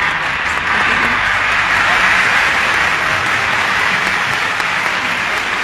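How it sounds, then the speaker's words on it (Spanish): Sustained loud applause from an audience at an award ceremony in Spain, dense clapping filling the whole stretch at close range. "Muchas gracias, aplauso."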